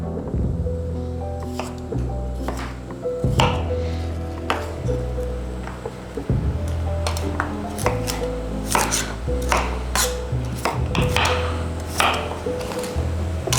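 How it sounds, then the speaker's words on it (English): A knife chops steadily through fresh unpeeled beetroots on a cutting board, with close, repeated sharp thuds in an uneven but continuous rhythm and no talking. "We're going to leave the skin on and we're just going to dice them."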